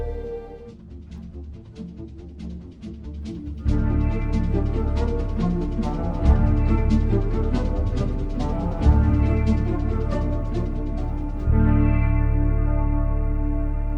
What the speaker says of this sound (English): So I added the bass part into the MCU Spider-Man theme,